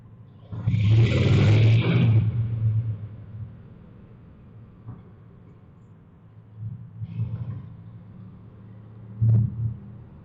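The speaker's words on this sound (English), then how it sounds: "I can hear this freaking exhaust too, just freaking reverbing through this whole thing." A Honda Shadow 750 Aero motorcycle exhaust roars and rumbles, booming with heavy echo in a parking garage, then fades, followed by softer distant rumbles.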